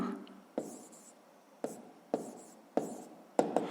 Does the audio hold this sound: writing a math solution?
yes